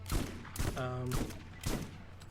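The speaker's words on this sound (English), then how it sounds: "this shotgun seems to be really effective against skags in this game" Shotgun fire at skag creatures in the video game Borderlands: three or so punchy blasts in quick succession, with a brief tonal creature cry between them.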